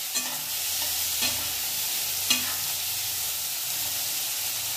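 Onion frying in a pan for Marathi dry bitter gourd (karela) dish, a loud constant hiss of hot oil with three brief stirring scrapes spaced through it, no voices.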